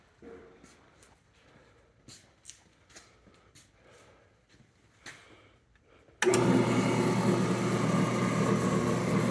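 An Ammco 7000 disc brake lathe in its original paint switches on abruptly after a few seconds of quiet shuffling and faint clicks, then runs with a loud, steady, even machine hum.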